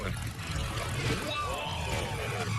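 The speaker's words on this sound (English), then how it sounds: "Oh, I think I hear it coming. I hear a British bike." A 1960s British motorcycle approaches, its low engine rumble steady and building under broad outdoor noise, with voices faintly mixed in.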